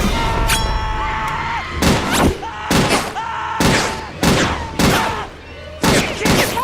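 Film gunfire from the slasher movie Scream 3, a string of loud, sharp shots in quick bursts roughly every second, with a sustained tone and background sound between them.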